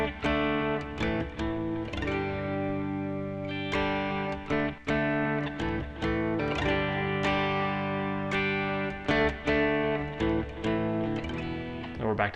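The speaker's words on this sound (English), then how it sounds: "Now there's a bridge section real quick in this song that sounds like this." Electric guitar with a slightly distorted, effected tone plays the bridge of a song, steady strummed chords and ringing notes throughout, close and alone without talk.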